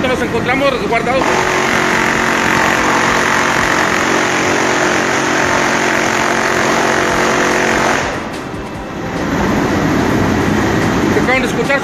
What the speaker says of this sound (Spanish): Lo que acaban de escuchar son